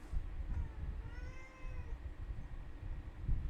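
A cat meows once in a long, wavering cry inside the indie horror game Peter's House, set against a steady low rumbling ambience, faint and somewhat distant.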